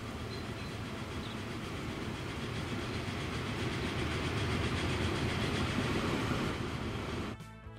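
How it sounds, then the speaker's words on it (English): A freight train rolls by in Transport Fever 2 with a dense, steady rumble and rhythmic wheel clatter that swells slightly, then cuts off abruptly near the end. "as a freight train comes by here."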